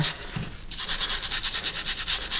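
Stiff brush scrubbing an old, badly rusted shovel with detergent, a close, steady run of rhythmic rasping strokes after a brief quiet start.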